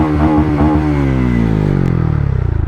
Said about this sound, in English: pretty loud exhaust, isn't it?